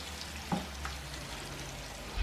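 Food frying in a sauce in a pan, giving a low, steady sizzle with a couple of soft clinks and stirring scrapes near the start.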